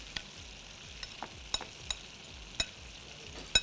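Mayonnaise being mixed into chopped vegetables: a low, steady wet churning with sharp little clicks of the utensil against the bowl at irregular intervals, quiet and close.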